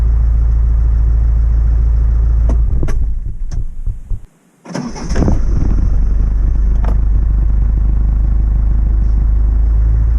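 Car engine idling after a snapped cambelt repair, a loud low throbbing drone that cuts out briefly in the middle before rumbling back, with some rattly clicks.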